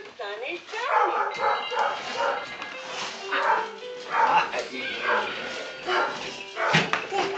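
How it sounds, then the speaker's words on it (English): A small dog yips and barks in short repeated bursts, close by, mixed with whimpers and overlapping with a person talking indoors. "Dog! Noisy thing, huh?"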